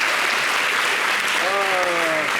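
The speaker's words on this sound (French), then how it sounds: "il faut applaudir pour les femmes." An audience applauds for women, a dense, steady wash of clapping throughout, with a voice briefly audible over it near the end.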